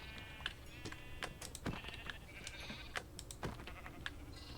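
Sheep bleat in Minecraft with the Jurassicraft mod, a few faint game bleats mixed with clicks and hit sounds over a steady background hum, no speech.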